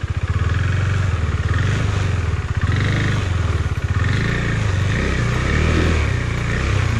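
A motorcycle engine revs close by as the bike is ridden through water, its pulsing exhaust chugging and rising, heard alone without talk.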